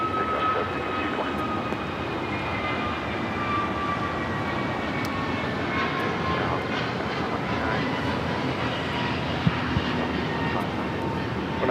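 An American Airlines A321neo takes off from runway 25 right at LAX, its engines giving a steady, loud roar that holds throughout with little change.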